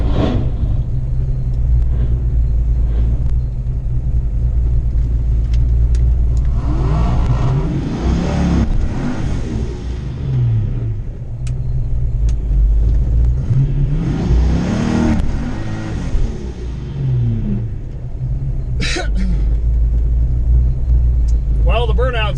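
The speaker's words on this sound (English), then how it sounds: "Well, the burnout sucked." A Ford Fox-body Mustang with a 408 Clevor engine swap roars loudly through a burnout at a track day, its rough, heavy exhaust rising and falling in repeated rev surges with a steady low rumble underneath.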